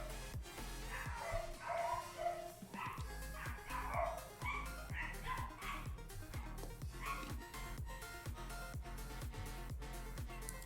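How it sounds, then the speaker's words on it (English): A dog barking and freaking out during a cozy New Year's livestream, rapid repeated yips, barks and whimpers close by, restless and continuous, with some talk faintly underneath. "That is a dog freaking out."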